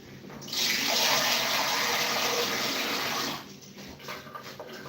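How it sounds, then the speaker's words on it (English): Water gushes steadily from a tap into a cooking pan, a loud, continuous hissing pour lasting about three seconds before cutting off, followed by quieter handling sounds. "Add water, at least half of the pan."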